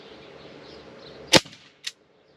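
A Sig Sauer MPX CO2-powered 30-shot pellet air rifle fires one sharp, close crack over steady background hiss, followed by a fainter click-like report about half a second later.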